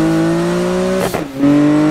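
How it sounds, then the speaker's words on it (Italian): Loud, steady engine roar from a car in a racing video game, holding a sustained high drone that briefly dips and wavers before rising again, with no voices. "ma sentite che rombo, raga."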